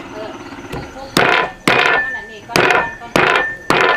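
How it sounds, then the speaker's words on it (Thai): Field rat meat being pounded and chopped with a blade on a wooden board, five loud, sharp thuds at a fairly steady rhythm, close to the microphone. "ทุบๆแล้วก็สับเลยเนาะ"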